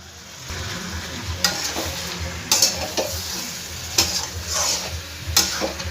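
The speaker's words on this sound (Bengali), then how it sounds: "মশলার সঙ্গে কষিয়ে নেব" Young jackfruit curry sautéed with spices and a splash of water in a pan, a steady sizzle broken by repeated scraping stirs of a spatula against the pan, alone and close.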